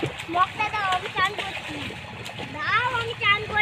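Children splashing in a village pond while learning to swim, with irregular close splashes mixed with excited kids' voices and an adult talking throughout.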